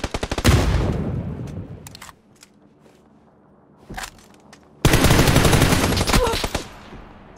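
Rapid automatic gunfire from a PUBG match on Erangel comes in two loud sustained bursts separated by a quieter pause with a single nearer shot, no talking.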